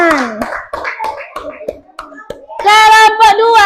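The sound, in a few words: applause, clapping hands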